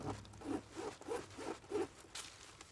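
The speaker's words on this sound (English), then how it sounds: "Let's see how this zips across." Zipper pulled in a series of short rhythmic strokes along a leather double-pocket satchel, about six close rasping pulls with a slightly rough, catching feel, then a brighter final zip.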